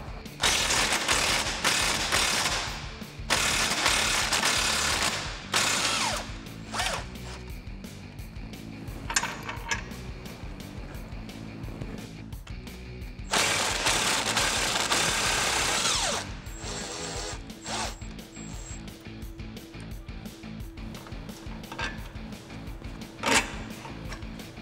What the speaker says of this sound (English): starting with your 18mm socket and the 18mm wrench, we're going to go ahead and get our shock bolts off here